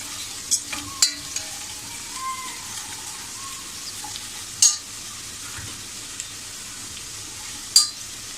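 Peas sautéed with masala in a pan, a quiet steady sizzle with a few sharp spatula taps and scrapes scattered across the stretch.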